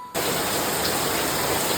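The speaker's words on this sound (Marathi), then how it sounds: "बाहेर मुसळधार पाऊस आता आला आहे" Heavy monsoon rain pours steadily outside a home in the Konkan region, a dense, continuous hiss and roar that starts abruptly after a brief quiet moment and stays loud throughout.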